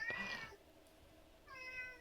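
A cat meows twice, each a clear, close tonal call, with a short quiet gap between them.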